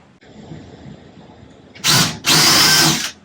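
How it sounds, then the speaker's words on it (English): A power drill whirs in two loud bursts near the end while drilling a hole for a closet system install, separated by a brief pause, after a quiet stretch of low background hum. "So now I got to drill a hole to get it in there."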